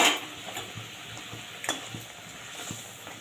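Pieces of fried khoira fish go into a simmering mustard and poppy seed curry, bringing a soft bubbling sizzle with a few light clinks and scrapes of a spatula against the pan.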